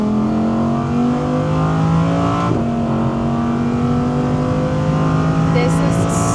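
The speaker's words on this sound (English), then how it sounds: "Listen to that engine. This is just incredible." Audi R8 V10's naturally aspirated engine revs hard on a track straight, its loud, steady howl climbing slightly in pitch while someone talks over it.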